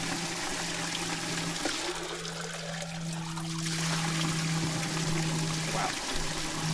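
Spring water pours steadily into bottles, a continuous splashing rush with a bubbling trickle and a low humming tone running through it.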